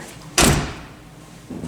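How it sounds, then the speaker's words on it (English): A single solid thud of a 1960 Chrysler 300F car door slamming shut, close and loud, followed by quiet and a faint rustle. "Listen to the door."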